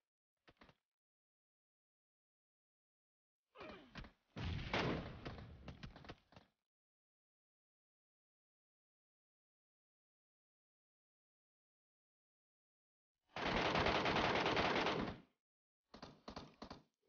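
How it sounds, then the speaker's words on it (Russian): Gunfire from bots in the Metro Royale game: short bursts of harsh, clipped shots in separate clusters, with long silent gaps between them and loud, sustained firing toward the end. "Их даже не видно, но они стреляют."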